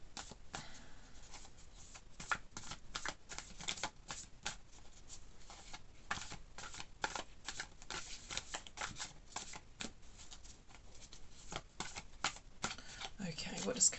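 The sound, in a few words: shuffling tarot cards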